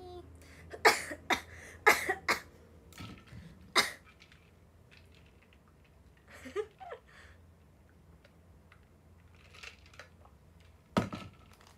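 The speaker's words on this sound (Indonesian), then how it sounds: "Ini batuk bukan gara-gara es guys." Several sharp coughs come in a cluster, then a couple more after a pause, close to the microphone in a quiet room with faint rustling.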